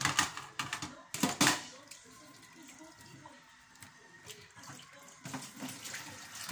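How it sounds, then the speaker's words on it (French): Water poured into a pot for cooking cassava in a home kitchen, with splashing bursts at the start and end and a quieter trickle between them. "je vais mettre de l'eau"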